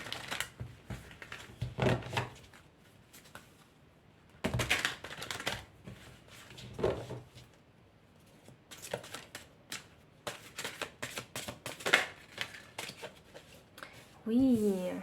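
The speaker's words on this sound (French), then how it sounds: "Je vais tirer les cartes de tarot pour savoir quelles sont vos prédictions." Tarot cards are shuffled and drawn by hand, giving bursts of papery riffling and soft card slaps at an uneven pace, close by and mixed with someone speaking throughout.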